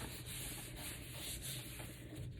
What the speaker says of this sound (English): flipping it over, and I'm pasting it on